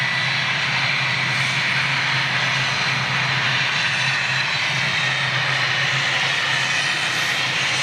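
A Boeing 737 airliner at Manchester Airport gives a continuous loud engine roar that holds steady and broad throughout, heard from a distance outdoors with no voices.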